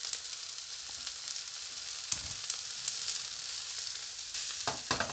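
Vegetables with green pepper and zucchini, plus noodles, sauté in a pan with a steady soft sizzle and crackle throughout, fairly quiet, broken by a few brief stirring scrapes and clatters toward the end.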